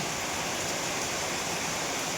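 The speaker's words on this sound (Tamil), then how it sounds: "நல்லா மழை பெய்யுது வெளில." Heavy rain pours outside, a dense, even hiss of falling water that stays constant and fairly loud, with no voices.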